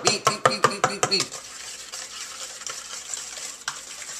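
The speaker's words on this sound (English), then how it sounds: "Get your spoon. Stir it up. You gotta beat them." A spoon beats brownie batter in a bowl, with about seven quick, sharp clacking strokes in an even rhythm, then softer scraping and stirring that fades to quiet.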